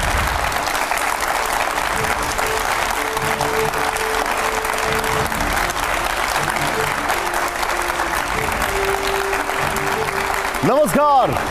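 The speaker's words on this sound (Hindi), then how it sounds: "जोरदार तालियां हो जाएं" Loud, sustained applause from the studio audience of a TV9 political talk show, a continuous roar of clapping with voices over it and a short rising musical sting at the end.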